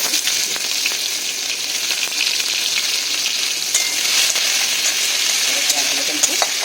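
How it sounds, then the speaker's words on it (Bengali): Whole cumin seeds and five-spice mix fry in hot oil with a dense, continuous sizzle and faint pops, steady and close up. "দেখো আমার গোটা জিরে আর 5 ফোড়নটা ভাজা হয়ে গেছে"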